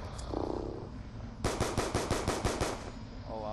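Automatic gunfire in Black Ops 2 Zombies, a quick loud burst of about eight evenly spaced shots after a quieter stretch of game sound.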